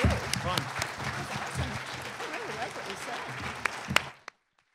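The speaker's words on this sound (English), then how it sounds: "join me in applauding our panel" At an offshore wind energy science forum, an audience applauds the panel with moderate clapping mixed with chatter and voices, a few sharper claps standing out near the end before it fades to silence.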